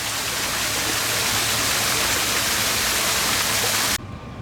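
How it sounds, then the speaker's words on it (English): Rushing water pours steadily in a loud, broad hiss from a waterfall in a zoo penguin enclosure close by, cutting off abruptly near the end. "They've got their own waterfall to play in."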